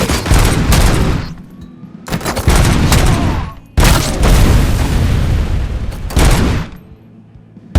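Loud, close gunfire bursts and a grenade explosion from the Robocop Rogue City video game, with heavy booming volleys repeating in several long blasts and brief gaps between them.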